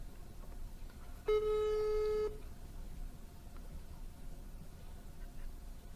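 A single electronic telephone tone, about a second long, sounds over a low background hiss, then fades back to quiet static.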